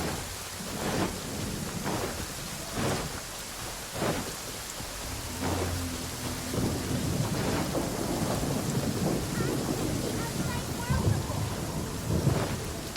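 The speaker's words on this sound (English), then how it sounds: "Okay, stop hitting me, lightning." Thunder and rain in Genshin Impact in Inazuma: steady rainfall hisses throughout while several booming thunderclaps crack in close succession, growing into a heavier rumbling downpour.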